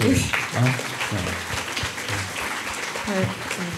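Applause from an audience at a school presentation by middle-school eco-delegates, moderate clapping mixed with voices talking over it throughout.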